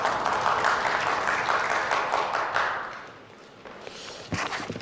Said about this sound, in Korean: 여러분 총장님을 큰 박수로 맞이해 주시기 바랍니다.